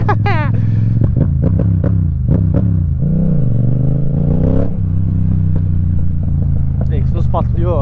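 A Yamaha MT-07 motorcycle engine rumbles loudly up close, revving and shifting with sharp pops and crackles from the exhaust, while a rider talks over it.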